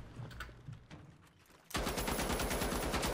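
Machine gun fire in The Finals, faint scattered shots at first, then a loud continuous rapid burst of automatic fire.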